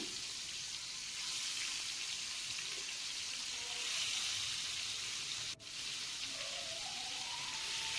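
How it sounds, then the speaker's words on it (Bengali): Fish coated in mustard paste sizzles steadily in hot oil, a continuous bright crackling hiss that stays even throughout, with no talk. "এবার তেলটা যে গরম হয়ে গেছে, মাছটা আমি দিয়ে দিলাম।"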